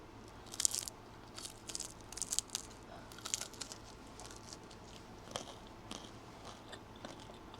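Crispy fried lumpia is bitten and chewed close up, a few sharp crunches in quick bursts followed by softer crackling chews, fairly faint against a quiet room.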